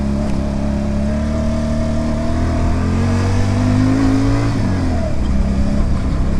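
A 2025 QJMotor SRV 125 cruiser motorcycle engine accelerates smoothly and loudly up close, its pitch rising steadily before dropping at a gear change and then climbing again.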